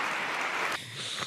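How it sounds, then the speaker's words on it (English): A crowd clapping at a political rally, a thick burst of applause that drops in level partway through, then swells again slightly, continuous and fairly full. "They clapped. And they clapped."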